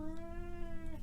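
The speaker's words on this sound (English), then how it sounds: "He's going to meow to be let out." A house cat gives a single drawn-out meow to be let out, a faint, steady indoor call heard alone for about a second.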